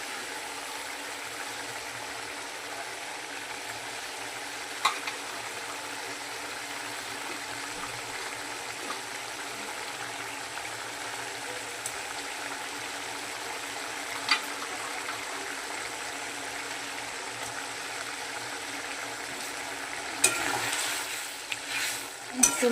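Fish pieces simmering in a bubbling home-style Bengali fish curry: a steady, soft hiss and gentle bubbling continue throughout, with a few light clinks near the end.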